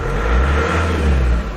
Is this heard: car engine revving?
yes